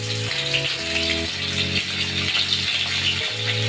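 Fish rubbed with turmeric and salt sizzles in hot oil, giving a steady crackling hiss under a stepping melody of background music.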